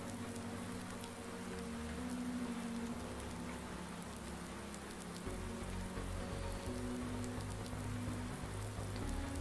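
Rain falls in the farming simulation game Irgendwo in Thüringen, a soft, quiet, steady patter with a low engine-like hum running beneath it that shifts slightly partway through.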